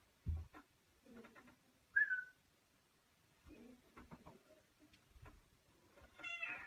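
A pet cat gives a few soft, short meows scattered through quiet room tone, one brief high whistle-like cry standing out, with faint low shuffles in between.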